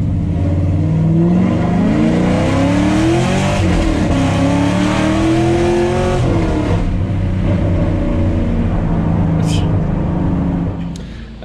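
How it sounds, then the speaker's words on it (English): A fifth-generation Chevrolet Camaro SS with Badlanz exhaust cutouts open roars loudly from inside the cabin, the V8 revving up and down through gear changes with a deep, rising and falling exhaust note, then easing off near the end. "it's insane just how loud and awakened this car is"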